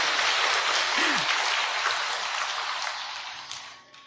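Audience applause at a Buddhist dharma talk: dense, steady clapping from a large crowd that slowly thins and fades toward the end, with no clear voice over it.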